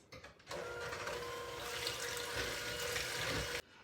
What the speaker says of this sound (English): now we're gonna whisk that or use our hand mixer for 2 minutes